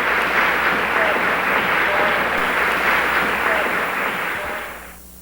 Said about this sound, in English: And each finished to the applause of the recital hall audiences.